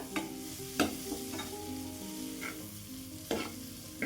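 Capsicum and sweet corn sautéing in butter in a pan for masala sweet corn, a steady close sizzle broken by a few sharp stirring scrapes, with no voices.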